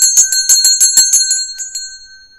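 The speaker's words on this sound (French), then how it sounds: "On fait sonner la cloche." A small ritual bell rings during a Hoodoo ritual, a rapid series of about ten bright metallic strikes that fade out, clear and close with nothing else behind them.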